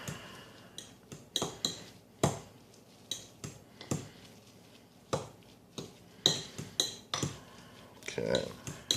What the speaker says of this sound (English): Stir that all up in it.